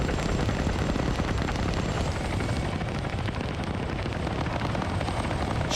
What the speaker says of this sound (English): And we got the helicopter now flying slow over it.